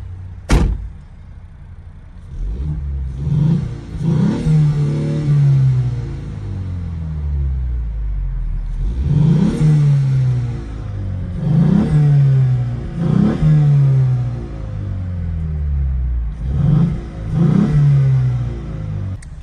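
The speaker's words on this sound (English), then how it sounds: "Let's give it a rev or two. See how it sounds from inside the cabin." A 2024 Mustang EcoBoost engine revs cold repeatedly, several rising bursts with pauses in between, heard from inside the cabin, preceded by a sharp click.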